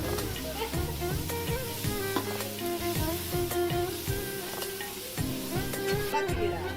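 Tomato and chicken masala fry and get stirred in a pan, a steady sizzle broken by repeated scraping strokes, with a tonal, music-like layer running underneath throughout.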